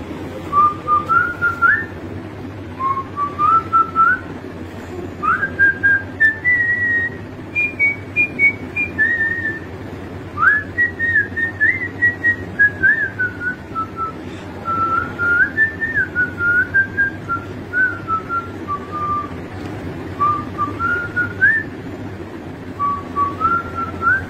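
A person whistles a song tune alone for over twenty seconds, a steady melodic line of connected phrases with brief pauses, close and clear over a low background hum.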